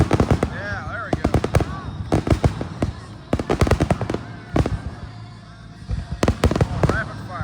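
Rapid-fire fireworks burst again and again at a 2025 show in Hartwell, Georgia: sharp, loud, closely spaced cracks in irregular clusters, with crowd voices and cheering underneath.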